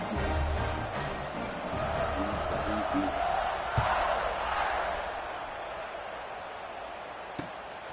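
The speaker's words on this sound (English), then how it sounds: "this crowd is feeling themselves after that last drive" Stadium crowd at a college football game between Arkansas and Notre Dame, a broad steady roar of cheering that fills the whole stretch with a few sharp thumps, heard without nearby talk.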